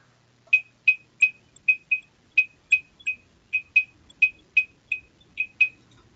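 Sharp, woody clicks repeat in a syncopated three-then-two pattern, bright and dry, alone against near silence.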